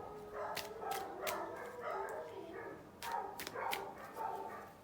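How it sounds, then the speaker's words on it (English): Dogs bark repeatedly at a moderate distance, sharp yips and bow-wows in two clusters of several barks each, fairly faint against a quiet background. "Maybe the dogs barking will be confirmation for some of you."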